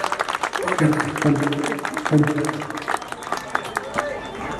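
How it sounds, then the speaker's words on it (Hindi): A crowd claps and applauds at a gathering in India. The clapping is steady and moderately close, and people's voices and babble run over it. "ताली कितना बजा रहे, कितना सुथरा।"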